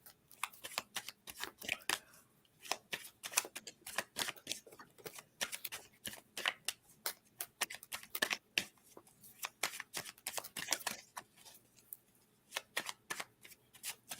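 Tarot cards are shuffled by hand in a long run of quick, crisp riffling and slapping bursts, close and soft, with brief pauses between handfuls.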